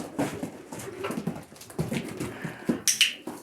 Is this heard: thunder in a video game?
no